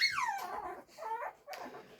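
A puppy whimpers and whines in its pen, with high, sliding cries that come in three close bursts with short pauses between them.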